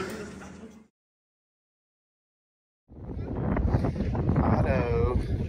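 Loud wind buffets the microphone in a broad roar outdoors at the Biltmore House, cut by a short silence, then gusting steadily again; brief voice-like sound at the start.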